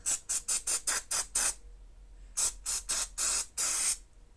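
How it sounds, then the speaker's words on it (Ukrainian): Carburetor cleaner sprayed onto a Great Wall servo transfer-case mechanism in short, sharp hissing bursts, seven quick ones, a pause, then several longer blasts, close and loud with no talking. "Купив очисник карбюратора, селектор убираємо і починаємо промивати."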